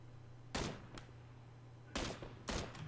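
Gunfire in the battle game PUBG: three sharp bursts of shots, the first around half a second in and two more close together near the end, loud over a steady low hum.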